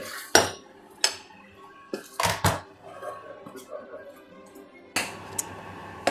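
A spoon clinks and scrapes against a bowl while vanilla essence, icing sugar and peanut butter are stirred together, irregular knocks and taps close by over faint background sound.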